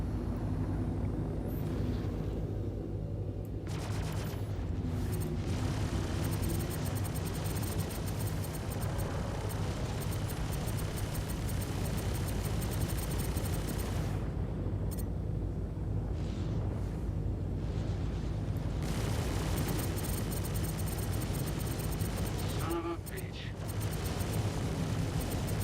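Spaceship weapons firing in Star Citizen, dense sustained blasts and rumbling bursts roaring continuously over about twenty-five seconds, with brief dips in intensity between volleys.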